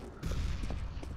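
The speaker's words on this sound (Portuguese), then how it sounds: "Ouvindo barulho de tiro" Gunfire crackles in the Overwatch video game: a brief, dense burst of rapid shots at moderate volume, with no speech.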